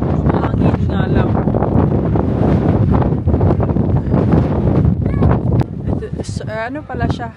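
Strong coastal wind at Howth, a small fishing village by the sea, buffets the microphone in loud, gusty bursts of rumble that run steadily throughout, while people talk over it.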